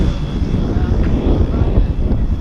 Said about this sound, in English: This is a gasoline powered airplane as opposed to glow powered.